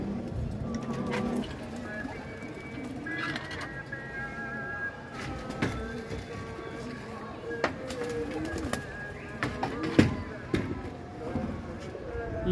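A green pigeon coos in repeated soft calls close by, with clicks and knocks from handling and faint background noise between the calls.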